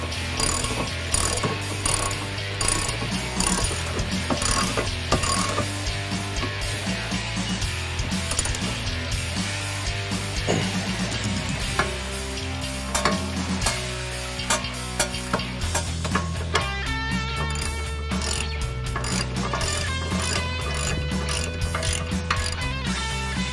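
Ratchet clicking in steady bursts while tightening the rear wheel bearing and hub assembly bolts on a 2015-2023 Ford Mustang, close and loud, with rhythmic pawl ticks and metallic mechanism noise, no talk.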